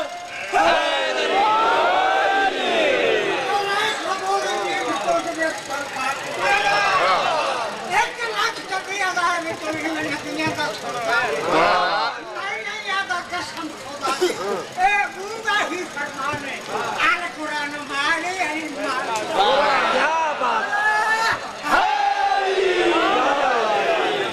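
A large crowd at a Shia religious majlis chants slogans in loud, surging unison, with waves of raised voices and background hubbub rising and falling across the whole stretch.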